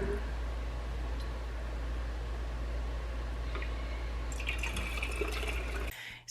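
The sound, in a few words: broth being poured into jars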